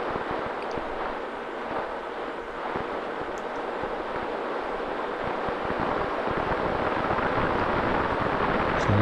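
Gusty wind buffets an FPV racing drone flying low over the Murrumbidgee River, a steady roaring rush with rumbling low buffets that swells slightly louder toward the end.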